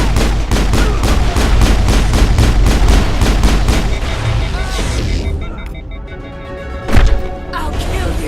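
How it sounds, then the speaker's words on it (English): Rapid gunfire in the video game Mass Effect, a fast regular volley of loud close shots for several seconds, then thinning out, with one sharp burst near the end under game voices. "We've got orders from Venezia. Open fire!"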